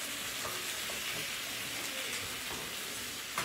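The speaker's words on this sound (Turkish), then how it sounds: "Şöyle soğuk suyla yemeğimizi güzelce bir karıştırıyoruz." Meatball stew with potatoes and tomato paste is stirred in a pot after cold water is added, giving a steady sizzling, bubbling wash with faint scraping and a small knock near the end.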